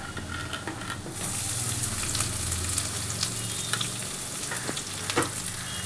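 Onions sizzle in hot oil in a pan while frying for kadhi pakora. The bright, crackling frying is close and steady, with light scraping stirs and small pops throughout.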